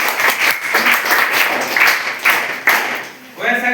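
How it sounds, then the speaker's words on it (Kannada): Eighth-grade students in a social science class clap loudly in several bursts of group applause, close by, while a teacher speaks between the rounds. "ಜೋರಾಗಿ ಚಪ್ಪಾಳೆ ತಟ್ರಿ."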